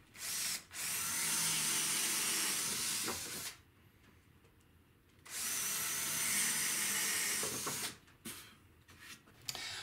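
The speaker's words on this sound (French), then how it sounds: "je donne un coup de perçage-fraisage, histoire de faire quelque chose de propre" Drilling and countersinking into a wooden desk crossbar with a power drill, two long, steady whirring bursts separated by quieter pauses, close and moderately loud, with no voices.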